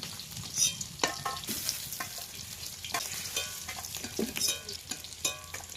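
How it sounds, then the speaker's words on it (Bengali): Large pieces of snakehead fish frying in a pan give a steady crackling sizzle, broken by repeated sharp scrapes and clinks of a spatula stirring, close and quiet. "লাল লাল করে কিছু ভেজে নিচ্ছি এবার কিন্তু মাছগুলো তুলে নেব"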